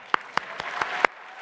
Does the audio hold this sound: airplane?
no